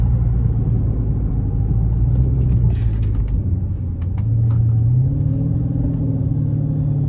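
A straight-piped Chrysler 300S Hemi rumbles loudly from inside the cabin at night, its deep exhaust note dropping and rising again as it downshifts, with no talking.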